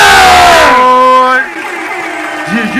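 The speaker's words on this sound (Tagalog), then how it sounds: "akin pong hinihingi yung malakas na balakpakan at sigawan ng boy ko!" Crowd at a Filipino rap battle at the Giniling Festival roars with loud cheers, shouts and whoops, a dense burst up close that fades into scattered voices and calls.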